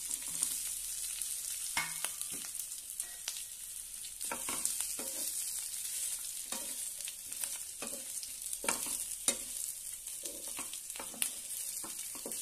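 Bottle gourd vadi frying in a pan with curry leaves and sesame seeds, a continuous close sizzle with scattered pops and stirring clatter, no voices.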